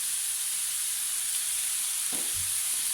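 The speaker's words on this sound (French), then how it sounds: "Et là, on cuit la viande comme ceci." Lightly salted and peppered minced beef fries in a pan. It gives a constant close sizzle and hiss, with a couple of soft utensil knocks near the end and no voices.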